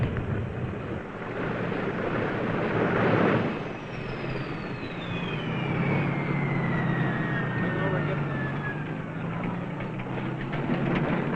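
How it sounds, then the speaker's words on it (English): A Super Constellation airliner's propellers reversed after landing: a loud, sustained engine roar fills the whole stretch, swelling briefly then holding steady, with a whining tone sliding downward over it. "you hear the engines roar soon after you're on the ground"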